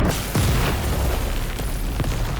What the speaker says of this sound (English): Suddenly there is an explosion.